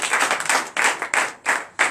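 A church congregation claps in acclamation of Jesus during a night prayer service, a few bursts of close, sharp hand claps in quick irregular runs separated by brief pauses.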